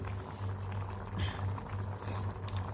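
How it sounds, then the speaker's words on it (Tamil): A low, steady bubbling of brinjal curry simmering in a pot on the stove, close and continuous with faint burbles throughout. "ஒரு ஒரு நிமிஷத்துக்கு இதை வந்து நல்லா கொதிக்க வச்சுக்கலாம்"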